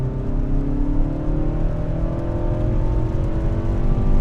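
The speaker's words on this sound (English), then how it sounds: "we're gonna do a quick 0 to 60. Lots of wheel spin in the rain" A Mazda3 accelerates hard from 0 to 60 on a wet road in the rain, its wheels spinning as traction control engages. The engine rises in a loud, steady, climbing whine from inside the car, with no talking.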